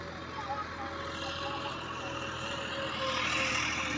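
A 260 tractor engine drones steadily as it hauls a fully loaded 13-foot trolley of canal sand up a rough ramp, a low continuous rumble that swells slightly toward the end, with someone talking over it.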